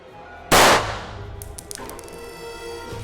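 A single loud gunshot sound effect from a film headshot scene, a sharp close crack that decays into a ringing tail, followed by a few faint metallic clinks.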